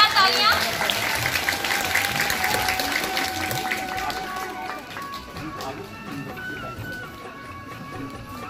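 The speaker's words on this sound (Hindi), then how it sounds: "जोरदार तालियां" An audience at a school Matra Diwas ceremony applauds loudly with sustained clapping that slowly fades, while music and a voice continue underneath.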